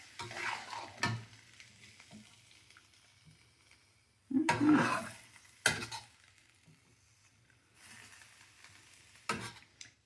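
A spoon stirs vegan mapo tofu with broccoli and mushrooms in a pan, a few distinct scraping strokes against the bottom separated by quiet gaps with a faint low sizzle.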